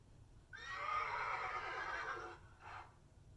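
A horse neighs alone and clearly, a long whinny followed by a short second burst, over quiet background.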